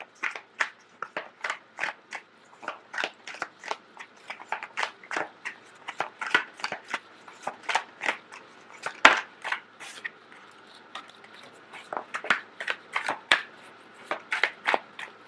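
Tarot cards are shuffled and handled in quick, crisp riffles and flicks, a close, fairly quiet series of rapid papery snaps running throughout with no talking.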